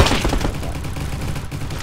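Rapid gunfire in the Roblox game Jailbreak, a dense burst of shots that keeps rattling loudly and without pause through the whole short span.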